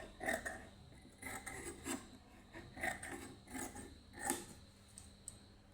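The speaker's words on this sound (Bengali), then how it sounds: "এখন আমি এই সাইডে যে কাপড়গুলো আছে এগুলো কেটে দিব।" Scissors cutting excess cloth along the side of a stitched garment, a series of soft rasping snips in irregular bursts, close and quiet, with no talk.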